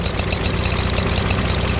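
A Craftsman push mulcher lawnmower with a Briggs & Stratton 550EX engine runs rough, a loud close steady drone with an uneven, knocking pulse throughout and no talk.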